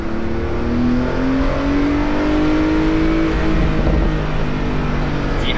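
A Porsche 911 Turbo Cabriolet engine drones loudly and steadily, its pitch sliding gradually upward as it revs, with a rough, very loud exhaust rumble underneath.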